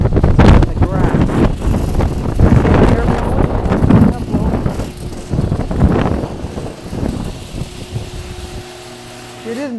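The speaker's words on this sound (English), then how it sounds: "It's nice and breezy. I don't know if you can hear me." Outdoor breeze buffets the microphone in a rumbling, uneven wind roar throughout, while a person talks over it; the gusts ease toward the end as a faint tone rises.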